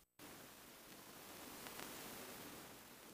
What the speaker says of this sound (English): The other thing I introduce is this texture of tape noise.